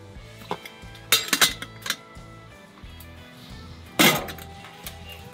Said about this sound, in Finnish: Joo, eli otetaan paistinpannu.